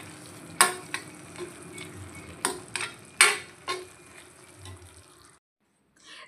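Prawn masala with fresh coriander being stirred on a tawa, with a few sharp spatula scrapes and clinks over a soft sizzle, then a sudden drop to near silence at the end.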